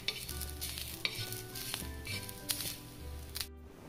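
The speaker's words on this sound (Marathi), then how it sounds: "आता आपण कांदा छान लाल होईपर्यंत छान असा खरपूस भाजून घेणार आहोत।" Onion frying in a pan until browned, a steady close sizzle with repeated scraping stirs.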